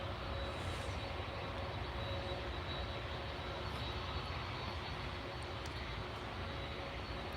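A steady, loud roar of an Embraer E2 jet airliner's engines at Edinburgh Airport, broad and continuous throughout with no breaks, heard fairly close.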